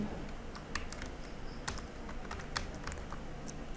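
A layout name being typed on a computer keyboard produces a quick, irregular run of light key clicks, close and clear over faint room noise.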